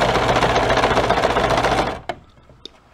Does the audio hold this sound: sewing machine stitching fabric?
yes